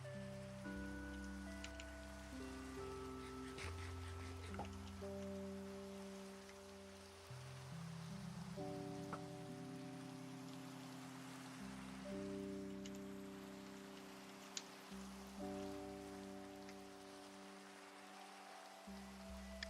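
Steady Minecraft rain patters on a surface under a soft, sustained musical backdrop of held tones, quiet and continuous.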